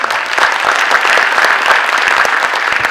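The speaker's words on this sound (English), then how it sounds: "Let's give them a round of applause." Steady, dense applause from an audience, many hands clapping continuously at a fairly loud level with no voices over it.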